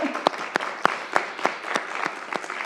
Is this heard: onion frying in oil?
no